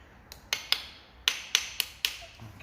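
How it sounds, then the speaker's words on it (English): Sharp metallic hammer taps on a fitted part during an engine piston restoration, about six crisp ringing strikes spaced irregularly, close and alone. "I just want to get that one tap of a hammer just on that"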